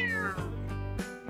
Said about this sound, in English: The cat meows while taking a very hard curve and nearly ejecting you from the back seat.